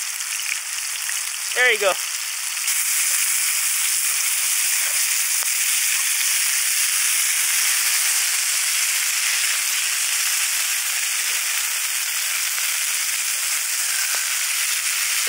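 Butter sizzling and frying steadily in a pan at a winter campsite beside a snow quinzee, a continuous close hiss after a brief sharp clatter near the start, with a voice speaking briefly over it.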